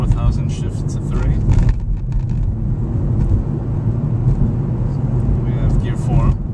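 A manual car's engine revs and drops as it is driven up through the gears, with wind and road rumble underneath and someone talking over it.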